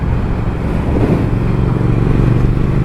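A 2019 Triumph Speed Twin motorcycle cruises in sixth gear at about 3,000 rpm, giving a steady, loud, low engine drone with wind rush, heard close and continuous without talk.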